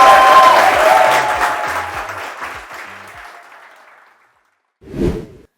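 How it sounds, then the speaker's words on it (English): An audience claps and applauds at a show featuring a Nollywood actor, a loud burst of clapping that slowly fades out to silence, followed by a short whoosh. "Clap it up for Mr."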